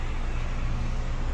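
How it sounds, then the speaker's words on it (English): A small Mazda Miata approaching on a backroad, heard as a brief steady engine and road-noise hum from inside a moving vehicle, low and constant without talk. "there's a little Miata coming up"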